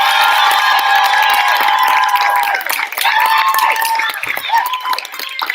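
An audience at an end-of-year dance recital breaks into loud, sustained cheering and applause, with high shouts and whoops from children riding over steady clapping that fills the whole stretch.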